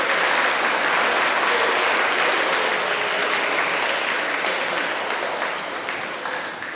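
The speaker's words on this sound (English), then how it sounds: "Let's give a round of applause for our teachers." An audience at a Lumbee tribe cultural presentation applauds for teachers, a full, sustained round of clapping that stays loud throughout and eases off slightly near the end.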